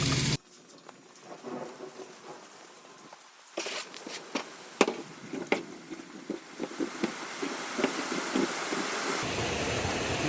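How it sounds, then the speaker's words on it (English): Steady rain falls outdoors in Central Texas, with sharp thunder cracks and rumbles breaking through at intervals as the downpour thickens toward the end. "A little bit of rain."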